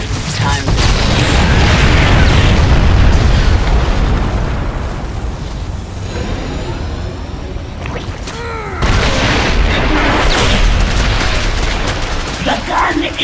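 A Terran gun blows up in StarCraft II, loud booming explosion blasts that fill the first half, ease briefly, then surge again with rumbling debris and scattered game effects over a sustained dense roar.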